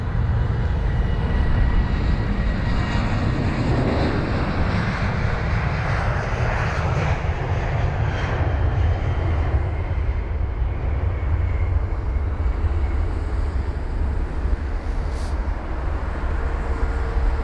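A KLM Boeing 737 departs London Heathrow with a loud, steady jet engine roar that fills the whole stretch, broad and sustained with a slow shift in tone as the aircraft passes, with no voices over it.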